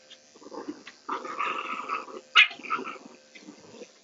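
A female dog being groomed growls in low, uneasy rumbles through most of the moment, with a brief louder snarl-like burst midway; close and fairly quiet, with no speech.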